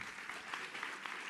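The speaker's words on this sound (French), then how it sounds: "Merci Nicole Bacharon, on peut l'applaudir." Steady applause from an audience at a public debate, a dense continuous patter of clapping heard at moderate distance.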